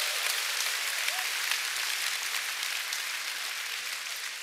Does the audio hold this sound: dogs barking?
no